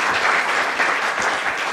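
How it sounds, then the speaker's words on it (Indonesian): Studio audience applause at a televised Indonesian debate talk show, a dense, steady wash of many hands clapping close and loud, filling the whole stretch without any voices. "Boleh kita minta tepuk tangannya sekali lagi?"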